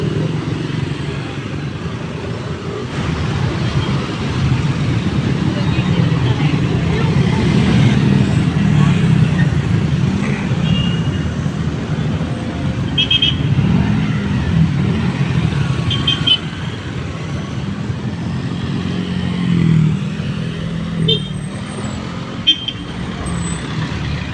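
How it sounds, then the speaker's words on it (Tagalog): Busy street traffic of cars and motorcycles flowing steadily past, a loud continuous roar of engines with a few engines revving and faint honks near the end. "Magandang flow ng traffic ngayon, dire-diretso yung mga sakyan."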